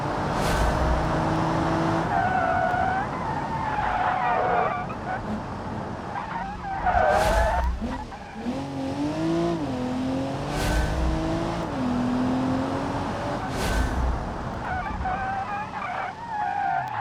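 Engine of a race car revving and shifting through a lap in the BeamNG driving game, with tire skids and squeals at intervals and steady motor drone throughout; a voice talks over it.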